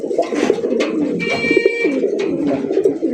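Pigeons cooing steadily and close by, a continuous layered murmur of several birds at a pigeon seller's stall, with no speech.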